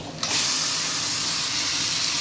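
A loud, sudden sizzling hiss as mutton hits hot oil, settling into a steady, dense frying roar that continues throughout.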